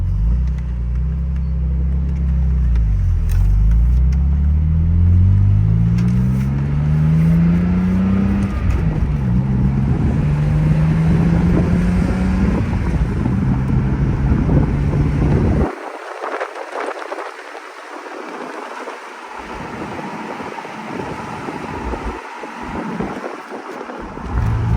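A BMW Z3 M Roadster with the S54 engine driving, its engine loud and close as it revs and shifts through rising gears, with a strong low drone, then dropping into quieter cruising with lighter road and wind noise.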